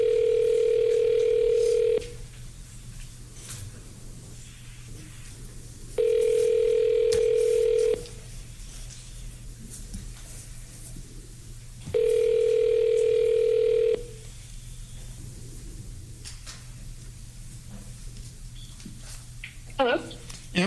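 Telephone tone while placing a call in a county commissioners court meeting, three long steady beeps about two seconds each with gaps between, clear over a quiet room hum.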